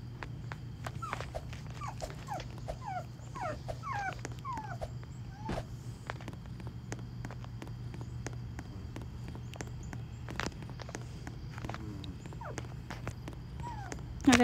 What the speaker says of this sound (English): That's just my dog, by the way.